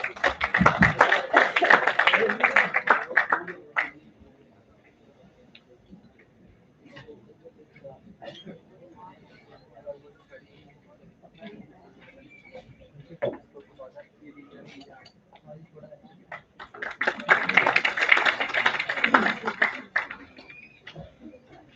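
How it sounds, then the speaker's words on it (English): Applause from an audience at a finance conclave ceremony where a Tulsi sapling is presented, with bursts of clapping at the start and again near the end and quieter room sounds and murmurs between. "Let's have a huge round of applause for ma'am."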